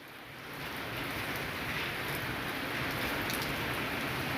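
Steady rain falling, a dense continuous patter that swells in slightly at the start and then holds at an even level, with no voices.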